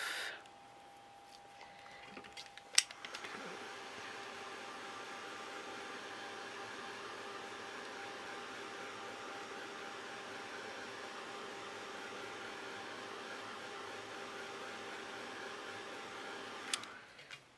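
A hair dryer blows over a mixed media artwork, a steady, close whirring hum that starts after a couple of seconds, runs unbroken for about fourteen seconds and cuts off near the end, with no talking.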